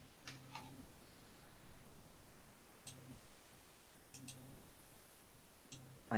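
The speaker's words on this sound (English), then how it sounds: "I heard clicking." A few soft clicks arrive in scattered pairs over a quiet online call, small and faint against a low hiss of line noise, with no voices.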